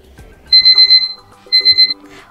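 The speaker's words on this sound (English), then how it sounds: "beep" Infinix Hot 30 smartphone alarm beep tone: two bursts of rapid, loud electronic beeps, four or five quick pulses each, separated by a short pause, with no voices.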